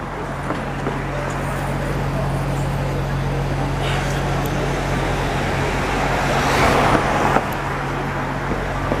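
A Prevost coach bus with a trailer passes along a busy downtown Montreal street at night, a broad engine and road roar swelling near the end over steady city traffic noise.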